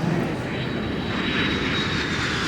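Inside a plane cabin, the airplane engine gives a constant broad roar with a steady high whine running through it, unbroken and close for the whole stretch.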